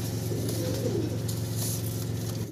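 Red checker racing pigeons coo continuously at close range in a loft, a steady layered cooing with a few higher chirps on top.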